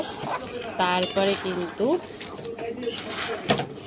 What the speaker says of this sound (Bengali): মাছগুলো দিয়ে কিন্তু এখন সুন্দর করে ঝোলের সাথে মিশিয়ে সুন্দরভাবে ফুটিয়ে দেব।